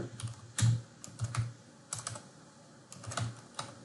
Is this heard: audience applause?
no